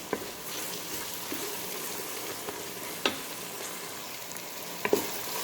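Garlic ginger paste fries in ghee with onion, giving a soft, steady sizzle with a few brief clicks of a stirring spoon against the pan.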